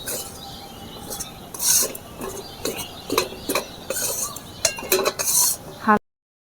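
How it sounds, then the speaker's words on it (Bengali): A utensil stirs two spoonfuls of flour in a dry pan over low heat while making potato rings, giving quiet, intermittent scraping clinks against the pan before the sound stops abruptly. "হালকা আঁচে এভাবে আস্তে আস্তে করে নেড়ে নিতে হবে"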